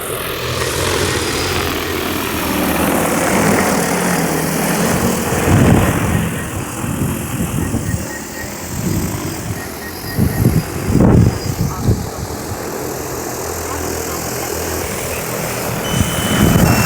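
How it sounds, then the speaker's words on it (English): A drone's propellers spin on the ground before takeoff with a steady, loud whine and hum. Uneven low bumps and rumbles from wind or handling run beneath it, and there is no talk. "Aircraft on ground. Propellers spinning. Keep away for safety."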